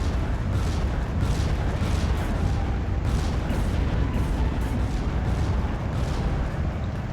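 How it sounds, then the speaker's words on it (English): Rocket strike explosions in the WWII strategy game Steel Division 2, a dense continuous rumble of booms and bursts rolling for several seconds, heavy and sustained with no clear gaps. "Another rocket strike goes down."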